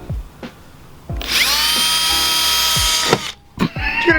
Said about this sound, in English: You're gonna drill into his car, bro!